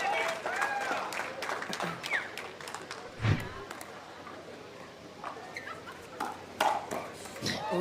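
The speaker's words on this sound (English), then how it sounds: "Oohs and ahs from the crowd after that big rip from Leigh Waters." Crowd at a professional pickleball doubles match at the Sacramento Open reacts with scattered oohs, ahs and brief clapping, mixed with sharp paddle pops and a nearby voice, fairly distant and modest in level.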